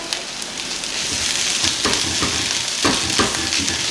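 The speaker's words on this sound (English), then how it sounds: "Let that boil away." Liquid boiling down in a hot pan on a home stove, a steady close sizzle and bubbling hiss with scattered sharper pops and crackles throughout, no talking.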